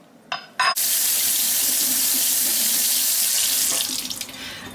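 Tap water rushes into a sink to rinse cucumber seeds, a few short splashes first, then a steady loud hissing stream that softens and breaks up near the end.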